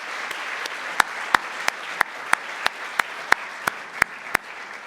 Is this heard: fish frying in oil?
no